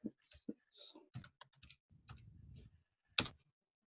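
Keys on a computer keyboard being typed in short, irregular bursts of clicks with gaps between them, ending in a sharper louder cluster of keystrokes near the end.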